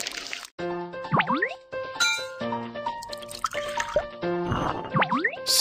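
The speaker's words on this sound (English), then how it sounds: "Mix latex and water." Latex being mixed with water for a children's papercraft animal puzzle, heard as cartoonish squishy, dripping liquid effects with bouncy swoops, played over light background music.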